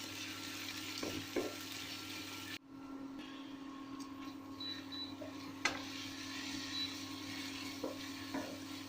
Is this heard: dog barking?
no